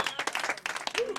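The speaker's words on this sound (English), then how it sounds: "I just would like to just give all the contestants a round of applause" A crowd claps for contestants in a short, uneven burst of applause, with a single voice rising briefly through it.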